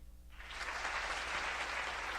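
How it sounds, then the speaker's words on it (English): Audience applause at a talk, breaking out after a brief quiet and swelling into a steady, full wash of clapping that holds to the end. "Applaud that man"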